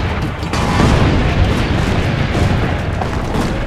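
Heavy cannon fire aimed at attackers in Assassin's Creed, a loud, dense rumble of booms and blasts that rolls on steadily without any talking.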